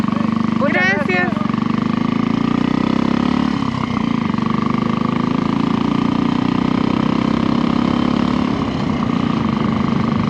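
A motorcycle engine idles steadily on the road near the Quilmes ruins, a continuous close mechanical drone with someone speaking over it at moments.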